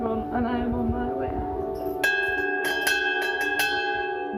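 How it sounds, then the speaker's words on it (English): A hand bell rung at the Christie Hospital by a patient finishing cancer treatment, clear metallic strikes ringing out several times with sustained tones after a voice fades out. "Ringing the bell at the Christie Hospital to say she is cured."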